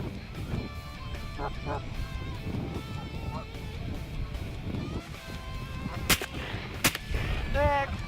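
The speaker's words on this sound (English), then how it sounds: "Boom, boom, and in 4 shots, the Holguin brothers had 4 geese on the gro" Two sharp shotgun blasts ring out at about 6.2 and 6.9 seconds during a goose hunt following the geese migration, sounding loud and close over wind noise and faint goose honking, with honks rising just afterward.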